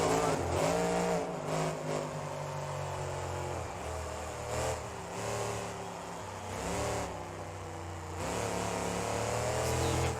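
A BeamNG SUV monster truck revs hard at a freestyle event in St. Louis, engine surging and dropping in repeated bursts over a loud, crowded arena backdrop.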